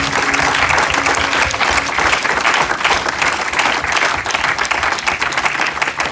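A church congregation applauding, a loud, dense round of clapping that holds steady throughout, close and enveloping.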